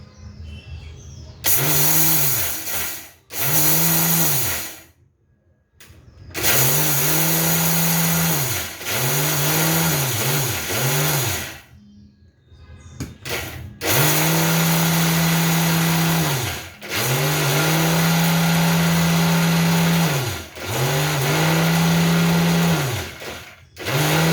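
A mixer grinder whirs loudly as it grinds chutney ingredients with chilli powder. It runs in several strong bursts of motor hum separated by short silent pauses, alone without talk.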